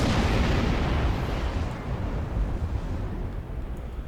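Starship cannons spraying fire in Star Trek Online, a loud rumbling barrage of explosions that starts strong and slowly settles into a continuous lower roar.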